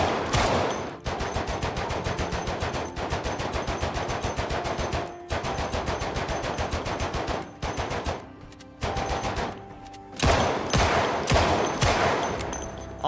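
Rapid pistol fire in Project Zomboid, a long run of sharp, evenly spaced shots in quick bursts, loud and close, with short pauses between volleys and no talking.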